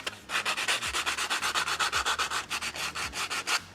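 An ABS plastic helmet part being sanded by hand in long strokes, a steady rhythmic rasp repeating about seven times a second, close and clear with no talking.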